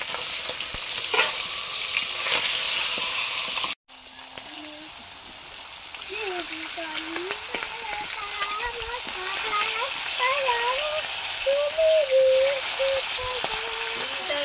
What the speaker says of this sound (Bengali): আমুদি মাছগুলো ভাজছি।